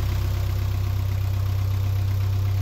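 Narrowboat engine running at a steady idle, a close, continuous low throb with an even rhythmic pulse and no talking.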